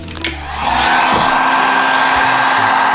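A heat gun warms vinyl wrap on a motorcycle, a loud steady blowing whoosh that rises within the first half-second and then holds constant and close.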